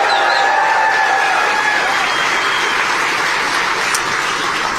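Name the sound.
crowd applause for Mike Rogers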